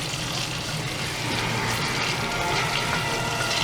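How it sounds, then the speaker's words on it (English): Hot oil poured into a birria mixture gives a loud, steady rushing sizzle and gush that holds at one level throughout. "we are going to pour that hot oil into this mixture"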